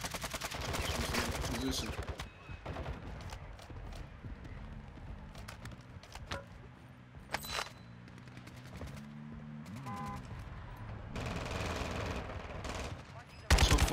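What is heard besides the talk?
gunfire shooting at the player in a video game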